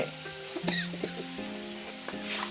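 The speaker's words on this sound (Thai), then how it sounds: "ผมจะใส่อัน ซีอิ๊วดำไปประมาณหนึ่งช้อนชานะครับ" Dark soy sauce sizzles in a hot wok during a squid and holy basil stir-fry, a soft steady frying hiss with faint scraping and stirring clicks, close and quiet.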